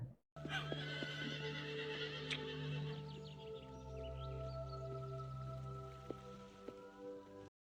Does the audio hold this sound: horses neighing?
yes